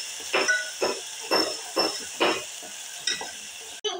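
Ground spice paste stirred in a cooking pan for a Satari bean dal curry, a rhythmic series of six or seven close scraping strokes over a soft steady hiss, with no talking.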